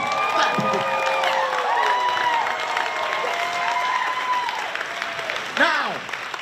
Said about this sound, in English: Clap, clap for me, clap for me.